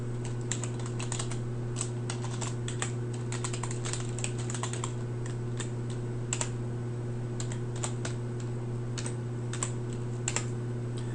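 Someone types code on a computer keyboard, a quick irregular patter of soft key clicks over a steady low electrical hum, close but quiet.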